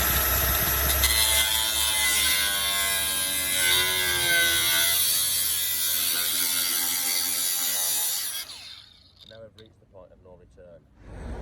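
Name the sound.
slitting disc cutting out rusty sill metal on BMW E46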